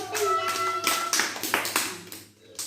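Several close, crisp hand claps in an irregular sequence, following a brief spoken voice, then trailing off into quiet.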